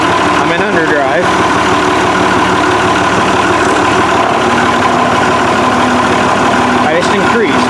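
An Oliver tractor with Hydra Power shift pulls away in third gear, its engine droning loud and steady throughout with a few rattling mechanical clunks.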